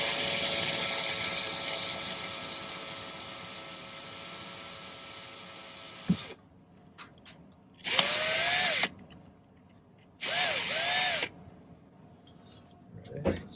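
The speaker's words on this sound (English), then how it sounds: "I'll use just a little tiny drill bit to get it started" Small bit in a power drill boring a starter hole in silver for a silversmithing pendant, sounding as a long whine and then two shorter, loud high-pitched bursts with quiet gaps between them.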